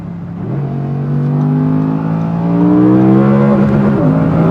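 A loud V10 engine revs up steadily from inside the car, its rising whine building, briefly dipping as gears change, then climbing again.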